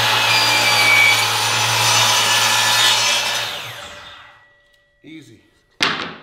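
Ridgid 10-inch miter saw cutting plywood: a loud, steady whining cut for about four seconds that spins down and fades, followed by a couple of short clunks.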